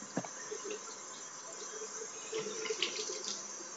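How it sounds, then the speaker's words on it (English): Tap water running steadily into a sink while make-up brushes are rinsed under it, a soft close splashing with small bumps of handling, fairly quiet and without talk. "So now I'm just going to run the water and see how much will come off."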